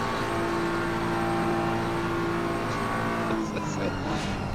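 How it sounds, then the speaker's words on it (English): A BMW M4 GT3 race car in a sim racing game at Paul Ricard drones loudly and steadily as it passes on the straight, with a faint tire squeal toward the end and a voice talking over it. "Listen to the beautiful sounds of the M4 BMW."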